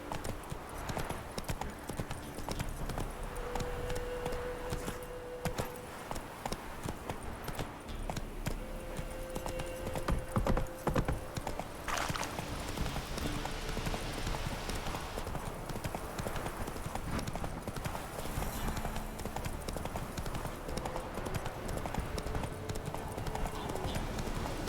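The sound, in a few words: horse hooves clip-clopping in Witcher 3 video game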